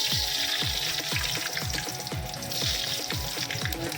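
Mustard seeds pop and crackle in hot oil for a soppu palya tempering, a steady sizzle broken by rapid, regular little bursts, close and fairly loud, with no talking.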